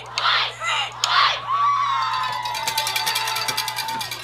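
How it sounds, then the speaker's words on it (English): A crowd cheers at a high school football game, Leavitt versus Morse, on a rainy evening: bursts of shouting and whoops, then a long high call over a faint rhythmic background. "It's Chloe starting the cheering"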